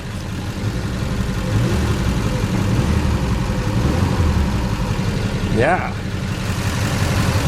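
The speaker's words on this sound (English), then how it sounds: "We're running, we're not in safe mode. Give her a little rev." A 2005 Mini Cooper R50 runs again after a fuel pump change. The engine idles steadily under talk, then gives a brief rising rev near the end.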